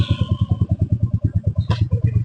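A motorcycle engine idles close by in a steady, rapid thumping rhythm, with a brief clatter partway through; no clear pull-away is audible.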